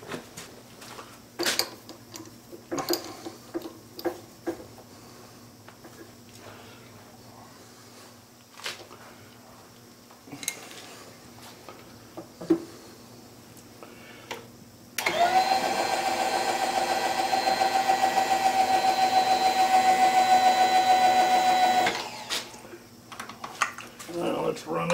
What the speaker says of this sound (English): So I'm going to get the next size up and do a counter bore